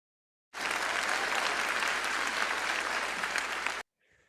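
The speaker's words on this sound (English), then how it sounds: "Just a little self-applause from us in a good Stalinist tradition" Sustained, even applause for about three seconds starting abruptly and cutting off sharply, a dense crowd-like clapping laid over a podcast, followed by a brief faint murmur.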